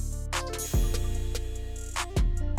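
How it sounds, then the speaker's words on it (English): Crash cymbal, reverse crash and fill effects over a dark trap melody, with deep sustained bass notes, two sweeping impacts and sharp hits riding on top, dense and loud without voices. "a crash, another reverse crash, and a fill"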